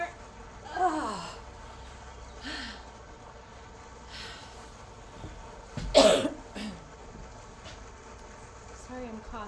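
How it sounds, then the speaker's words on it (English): Person coughing during a buns and thighs workout, a few scattered coughs and breathy throat sounds, one sharper burst in the middle, fairly quiet against a soft room background. "Sorry, I'm coughing still."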